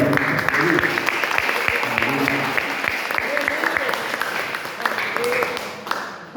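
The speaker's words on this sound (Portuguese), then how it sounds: "Você pode aplaudir ao Senhor pela nossa." A church congregation applauds, steady crowded clapping filling the room for several seconds, with voices mixed in beneath it.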